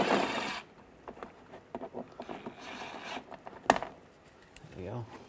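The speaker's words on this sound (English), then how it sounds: "Just to get more room, I'm going to take this bolt out, use the T25" Metal ratcheting and clicking from a T25 socket working a bolt loose on a 1998-2010 Volkswagen Beetle during A/C condenser replacement, a burst of sharp ticks followed by scattered taps and a louder clank, close by.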